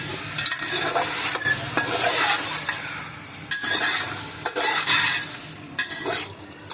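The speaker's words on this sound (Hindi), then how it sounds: "2 से 3 मिनट के लिए हमने लहसुन अदरक को अच्छी तरीके से भून लिया है" Garlic and ginger paste frying and sizzling in a karahi for chicken tikka karahi, with a spoon scraping and stirring against the pan in busy, irregular strokes, close and loud with no talking.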